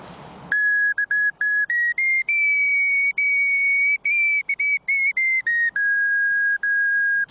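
A zozulytsia, a Ukrainian clay whistle, played in a run of short and long pure tones at a few pitches, loud and close, with brief gaps between the notes and no talk.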